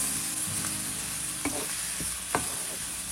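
Spice masala with tomato and split green chillies fries in a pan with a continuous sizzle, and a few sharp stirring scrapes stand out, no voices.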